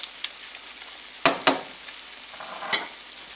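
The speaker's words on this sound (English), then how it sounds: "Add the pre-prepared snails to the pan, mix them in with the sauce, and add the garlic and most of the parsley." Prepared snails stirred into sauce in a hot frying pan, a steady sizzle broken by a few sharp scrapes and clacks of the spoon against the pan, close and fairly quiet.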